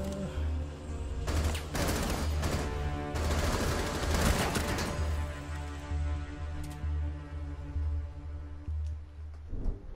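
Several bursts of gunshots hit a window in Rainbow Six Siege, sharp loud cracks clustered early and again mid-clip over a steady low game hum, with a final shot near the end.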